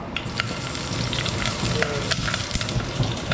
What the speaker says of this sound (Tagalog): Bawang luya mga par. Ito mga par, gisa-gisa lang ito.